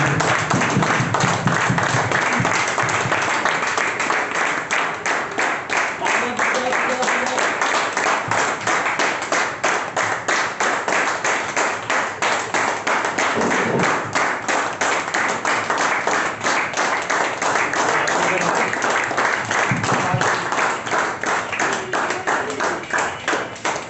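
Sustained clapping from a large audience welcoming a speaker onto a stage, dense and steady for the whole stretch, loud and close with no voices over it.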